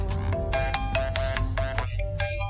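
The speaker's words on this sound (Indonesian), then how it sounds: "Telepon." A phone ringtone plays a bright, repeating melodic chime, steady and fairly loud, with no voices over it.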